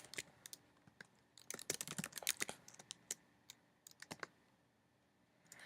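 Quick bursts of keystrokes clatter on a computer keyboard as login details are typed, irregular clusters of clicks with short pauses, close and fairly quiet with no talking.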